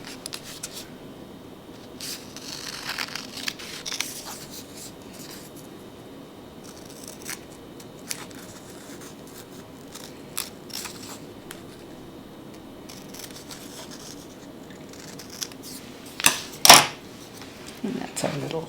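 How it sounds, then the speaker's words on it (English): Scissors snipping through paper to cut out snow-capped mountain shapes for a Christmas table craft, scattered soft cuts and paper handling close by, with a brief louder rustle near the end. "So then we cut these out."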